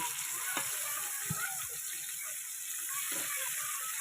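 Carp frying in a pan of hot oil gives off a steady close sizzle and crackle, with a few soft thumps as the fish is turned over. There is no speech.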